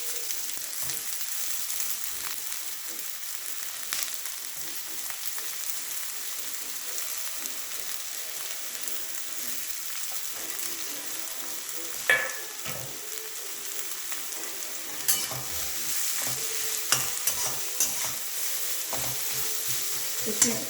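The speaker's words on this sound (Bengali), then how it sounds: "অনিয়নটাকে আমি লাল লাল করে ভেজে নেব।" Onions frying in a pan for an egg curry, a continuous sizzle with repeated spoon scrapes and a few sharper knocks against the pan, close and without talking.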